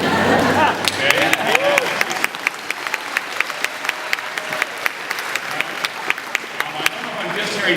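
Graduation audience applauding at a college address, a dense burst of clapping at first that thins into scattered individual claps, moderately near and fairly loud with no talk over it.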